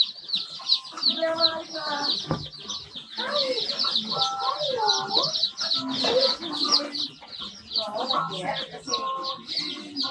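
Darag native chickens cluck and chatter in dense overlapping calls throughout a hatchery farm, busy and close with no pauses.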